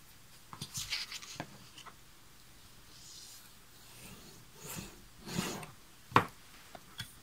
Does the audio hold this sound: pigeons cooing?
no